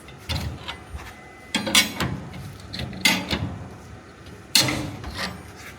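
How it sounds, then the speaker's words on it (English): A Halligan bar pries a hinge off a forcible-entry training door prop, giving loud bursts of grinding metal scrapes and creaks in several strained pushes with short pauses between. "we're just going to pry outward to try to pull the screws or the bolts out of the door to get that hinge to come off"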